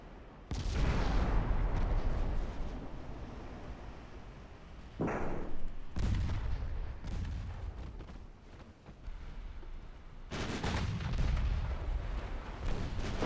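Torpedoes exploding aboard a sinking warship in a 1930s naval strategy game, three heavy booming blasts spaced a few seconds apart, each followed by a long rumbling decay.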